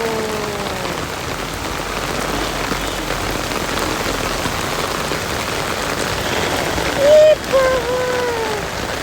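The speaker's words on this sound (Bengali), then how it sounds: "বাবা বৃষ্টি পড়ছে দেখো।" Rain falls steadily in a close, even patter on nearby surfaces, with someone speaking briefly near the end.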